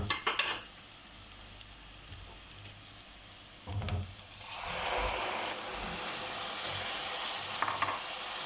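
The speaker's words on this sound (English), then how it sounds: "As the curry powder is fried up, I'm going to be adding in the tomatoes" Curry powder frying in a pan while preparing dry fish chutney, with a steady soft sizzle, brief clicks of a utensil near the start and middle, and the frying growing louder toward the end.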